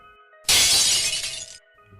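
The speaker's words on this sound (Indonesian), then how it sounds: "itu ada kayak suara jendela pecah" A window pane shatters in one loud, sudden crash of breaking glass that sprays for about a second before cutting off into near silence.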